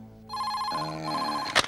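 A telephone rings at midnight, a steady electronic ringing tone that shifts pitch partway through and ends in a brief burst of louder noise, with no talk over it.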